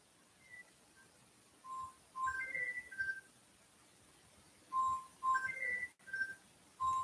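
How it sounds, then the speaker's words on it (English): A newly acquired business phone rings with a melodic electronic tone, two bursts of bright chirping notes separated by a pause, fairly faint against a quiet room. "that's my business phone that I just, you know, got a month ago"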